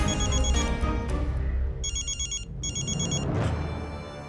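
An old-style telephone bell rings in two bursts, close and loud, over a busy background of music and ambient noise in an Indian TV drama.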